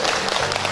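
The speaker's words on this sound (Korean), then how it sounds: "박수 한번 부탁드릴게요." Brief applause from the audience during guest introductions at a family-love poetry reading concert in Seo-gu, Daejeon, a short dense burst of clapping.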